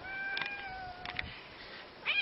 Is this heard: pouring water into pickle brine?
no